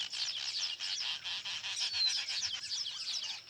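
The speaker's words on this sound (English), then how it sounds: "A colony of weaver birds is also busy with its own preparations for the coming season." A colony of weaver birds calls continuously in a dense, overlapping chorus of high chirps and chatter, busy and fairly close, with no voices over it.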